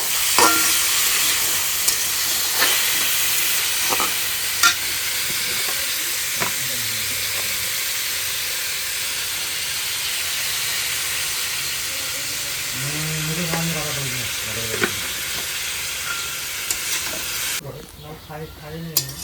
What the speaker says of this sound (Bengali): ভাজাটা ছোট চুলাটাতেই করে নিচ্ছি।